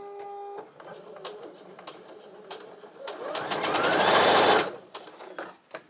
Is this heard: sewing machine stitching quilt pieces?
yes